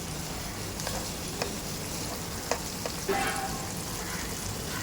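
Bitter gourd (karela) slices fry crisp in oil with a steady, moderately quiet sizzle. A few light clicks and bubbling pops come through close by, and nobody speaks.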